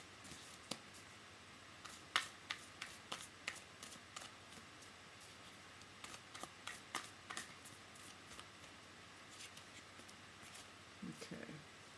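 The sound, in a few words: shuffling tarot cards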